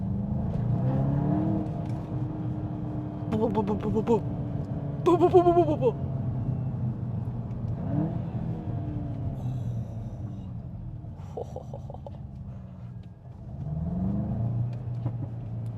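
A Volkswagen Golf GTI engine idles and revs, with a few sharp crackling pops from the exhaust breaking through the low rumble.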